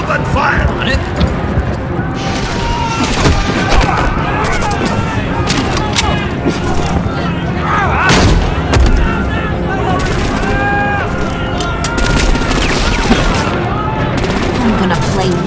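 Gunfire and explosions from a Batman video game: dense, continuous bursts of rapid shots and booms, loud and layered throughout, with voices shouting over the action.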